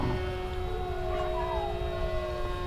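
Dogs howl at a model airplane in long, wavering tones that rise and fall, steady and sustained over a low background hum of its engine.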